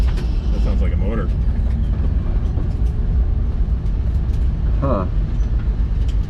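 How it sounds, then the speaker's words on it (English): A 1968 Camaro's engine at an NMCA autocross event gives a loud, steady low rumble throughout, with brief voices over it. "That sounds like a motor."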